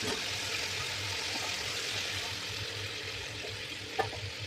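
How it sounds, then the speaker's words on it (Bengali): Water hits fried potatoes in a hot pan and boils with a faint, steady sizzle and bubbling throughout, joined by a brief clink near the end. "আলুটা ভাজা হয়ে গেছে, এবার আমি জল দিয়ে আলুটাকে সেদ্ধ করবো।"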